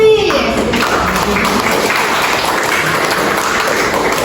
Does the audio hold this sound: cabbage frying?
no